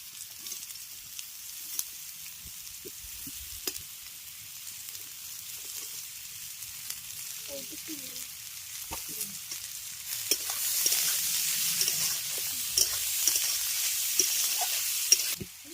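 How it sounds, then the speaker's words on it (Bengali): Carrots, beans, capsicum and peas frying in a pan, a soft continuous sizzle with scattered stirring scrapes and clicks, growing louder and hissier toward the end, with no talking. "গাজর আর বিনসটাকে একটু ভেজে নেওয়ার পর এর মধ্যে দিয়ে দিচ্ছি ক্যাপসিকাম আর মটরশুঁটিটা"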